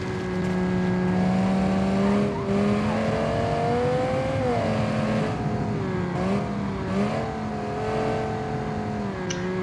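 A 3500-horsepower V10 engine fitted in an SUV drives in BeamNG, a loud, steady engine note rising and falling with throttle, with brief dips between gears and faint tire noise.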